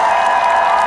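A crowd at an outdoor political campaign rally for candidate Lee Jae-myung claps and cheers, a steady, loud, dense roar of applause with no clear pauses.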